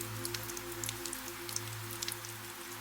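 Soft rain falling on a moving car during a slow drive through empty wet streets, frequent small drop taps over a steady low hum, fairly quiet and continuous.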